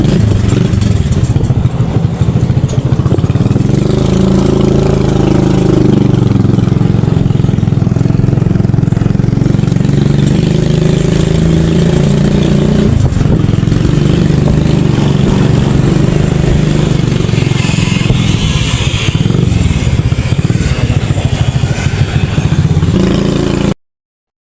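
A motorcycle carries riders to church for a dawn Christmas mass, its engine a steady, loud, close droning rumble with wind and road clatter running unbroken for the whole ride.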